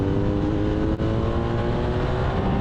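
A 2023 BMW R1250R SE motorcycle engine pulls hard on the throttle along a British B road, a steady loud drone with strong wind rush and no talking.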